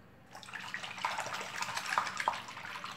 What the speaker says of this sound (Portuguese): Eu estou colocando ele aqui na água para a gente ver